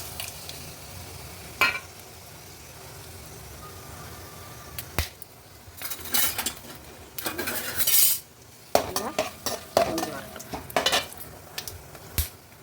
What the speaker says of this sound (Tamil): இதில் வந்து தாளிப்பு போட்டுக்குவோம் பெருஞ்சிரகம் கிராம்பு பட்டை இலை